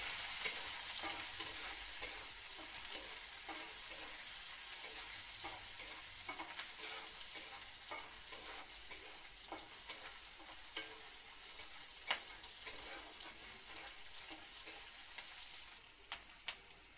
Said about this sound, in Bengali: পেঁয়াজ কুচি একটু ভাজা হোক,